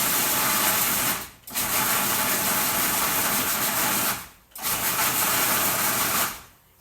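Food processor pulsing red pepper pesto for pasta in three loud bursts of whirring blade motor, each about a second and a half long and separated by brief pauses, with no talking.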